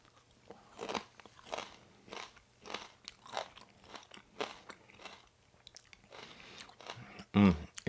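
Homemade pickled onions crunch loudly between the teeth: a series of about a dozen sharp, close bites and chews at a steady pace, with a louder crackle at the end and no talk.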